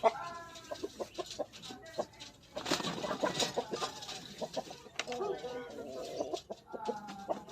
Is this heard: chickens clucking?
yes